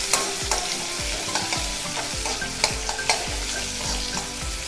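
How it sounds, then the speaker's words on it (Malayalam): Onions frying in a pan with a constant soft sizzle while a spoon scrapes and stirs in repeated strokes every half second or so, fairly close and alone. "ഉള്ളി നന്നായിട്ട് മൂക്കണം."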